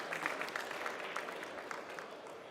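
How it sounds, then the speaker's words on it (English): Faint, steady applause from a conference audience at an industry trade-fair stage, a soft continuous patter of clapping heard from a distance with no voices over it. "Big applause for you, ladies and gentlemen."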